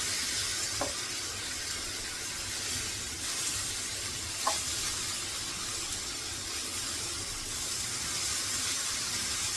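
Moong dal dosa fries in oil on a pan, giving a steady broad sizzle and hiss throughout, close and even, with a couple of faint clicks.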